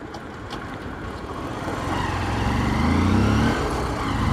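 Motorcycle slowing from about 40 under hard emergency braking with brake and clutch pulled together, a steady engine and road rumble rising slightly, then a low tonal drone that fades as it comes to a stop.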